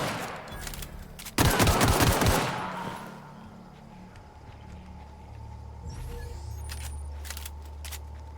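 A loud rapid burst of gunfire from a gun in The Outer Worlds lasts about a second, then fades into quiet game ambience with a few faint clicks.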